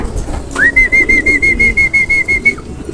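A sustained rising whistle, close and loud, sounds at a racing pigeon loft over soft fluttering and low cooing noises.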